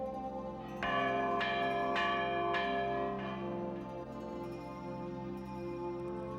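Church bells of Toledo's main church toll solemnly in a slow series of resonant strikes, their long tones overlapping and fading.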